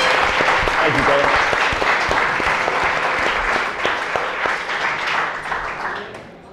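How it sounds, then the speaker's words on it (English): A crowd at a cooking competition cheers on a chef with a loud, continuous round of applause that gradually fades toward the end, voices mixed in underneath. "would you please give him a round of applause from Farm Table?"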